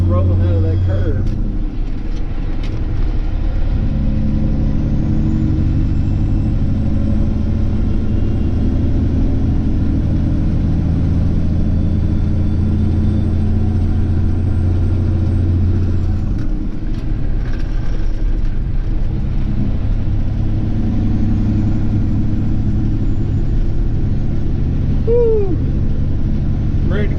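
Peterbilt 359 truck with a 15-speed transmission pulls in a lower gear under added throttle, a loud continuous low engine drone that holds steady with slight shifts in pitch, heard from inside the cab.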